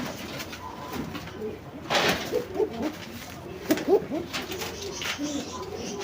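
Pigeons coo close by in soft, repeated throaty calls, several bursts overlapping in a quiet loft with faint background noise and no voices.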